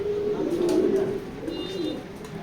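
Racing pigeons cooing close by, a loud low throaty coo that runs through the whole stretch, with faint chirps above it and no talking.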